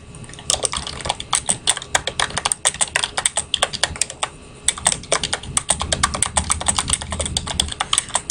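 Rapid, uneven typing on a computer keyboard, keys clattering close and clear in bursts with a brief pause in the middle, while filling in a Google Drive form, with no talking over it.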